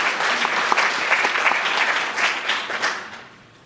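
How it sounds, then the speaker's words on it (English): Audience at a violence prevention symposium applauds after a poem, loud sustained clapping that fades away toward the end. "Can I get another round of applause?"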